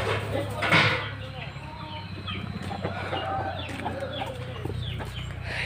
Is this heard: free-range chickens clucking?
yes